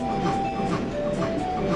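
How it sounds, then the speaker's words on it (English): A cartoon train running on rails in a children's animation, a steady close rumble with a faint rhythmic clatter and a thin whistle-like tone held over it. "The train is about to turn."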